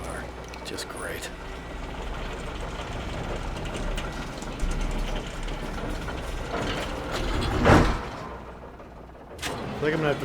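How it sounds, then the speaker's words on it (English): A cable car mechanism grinds and clicks steadily in the video game Alan Wake, a rattling ratchet-like drone running throughout with a louder clanking swell near the end, while someone talks over it. "Another cable car."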